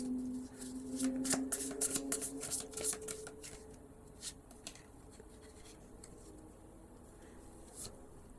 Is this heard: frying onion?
no